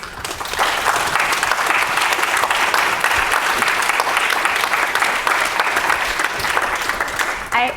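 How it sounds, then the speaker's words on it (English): Sustained audience applause after a lecture on the painter Edward Mitchell Bannister, a steady dense wash of clapping from a seated crowd that holds at even loudness and tapers off briefly at the end. "Another round of applause for our speaker."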